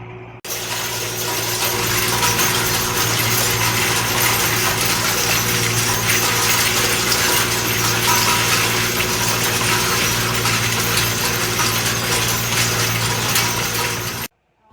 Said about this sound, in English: Harrowing the hayfield where we feed all winter